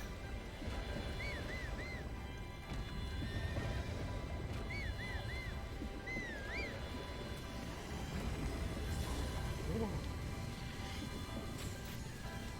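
Horse neighing in Zelda: Breath of the Wild, several wavering whinnies near the start and again around four to seven seconds, over a constant bed of game ambience and hoof-like clatter.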